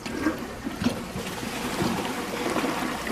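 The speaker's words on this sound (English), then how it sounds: "So let's put them in the toilet and flush." A Champion 4 toilet flushing during a bowl test, a steady rushing swirl of water lasting throughout at moderate loudness, with no one talking.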